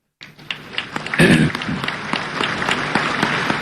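An audience at a Jambi provincial parliament plenary session claps, building quickly into a brisk round of applause that swells and carries on to the end.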